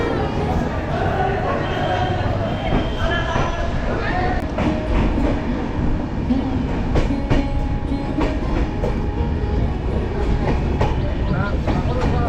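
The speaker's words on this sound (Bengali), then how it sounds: "এই হচ্ছে আমাদের ট্রেন কাঞ্চনজঙ্ঘা এক্সপ্রেস" The Kanchenjunga Express rolls along the rails, with a loud, steady rumble and rhythmic clickety-clack of wheels on track heard from close by throughout.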